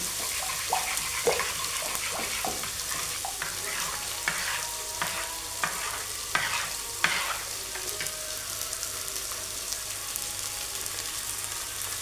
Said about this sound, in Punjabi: ਇਹਨੂੰ ਵੀ ਆਪਾਂ ਚੰਗੀ ਤਰ੍ਹਾਂ ਇਹਦੇ ਵਿੱਚ ਜਿਹੜਾ ਮਿਕਸ ਕਰ ਲੈਣਾ ਦਹੀਂ ਨੂੰ